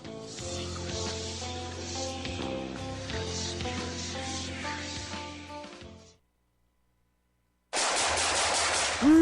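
Gunfire rattles in sustained rapid bursts for several seconds, loud and fairly close, then cuts to silence before a harsh loud noise returns.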